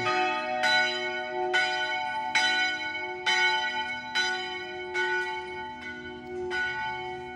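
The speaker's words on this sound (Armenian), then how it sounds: "սքանչելի գերբով եկեղեցու զանգերը ղողանչեցին" Church bells at Zmmar monastery in Lebanon toll in a slow, regular series of resonant strikes, each ringing tone decaying into the next, clear and moderately near with no voices.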